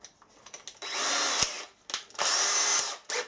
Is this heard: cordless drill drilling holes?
yes